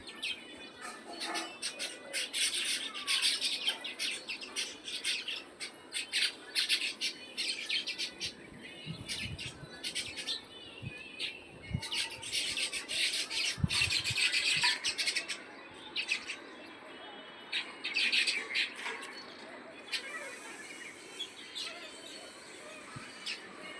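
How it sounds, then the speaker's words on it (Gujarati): A house sparrow chick chirps in repeated quick, high bursts with short pauses between them, fairly faint outdoors under overcast, rainy weather. "આ ચકલીનું બચ્ચું."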